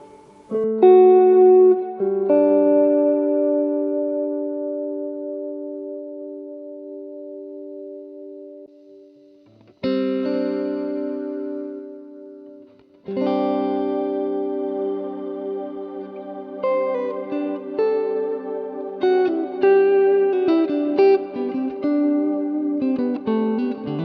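Clean guitar notes and chords through a Hotone Ampero Stomp ring out with echoing delay repeats and a wash of reverb trailing behind each phrase, with no talking.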